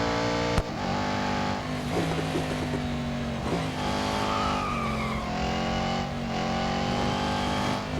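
Aston Martin Vantage GTE (2018) race car lapping in the Real Racing 3 game, a steady loud engine drone with shifting pitch and brief tire squeal, continuous and close with no talking.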